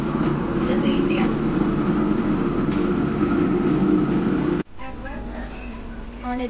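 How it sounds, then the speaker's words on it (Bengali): Heard from inside a Howrah to Brahmapur passenger train as it departs and runs, a steady, loud rumble shifts abruptly partway through to a lighter rattling tone, with faint voices in the carriage. "আমাদের ট্রেন ছেড়ে দিল এই মাত্র, ঠিক রাইট টাইমে 10:55-তেই ছেড়েছে।"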